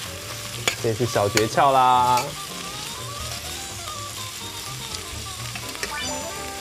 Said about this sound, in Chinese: 爆香的地方就让它炒到整个都软了